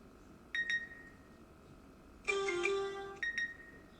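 Short electronic phone alert tones chime in bursts around a day trader's desk, a pair of quick beeps, then a longer multi-tone jingle, then another pair of beeps, loud and close against a quiet room.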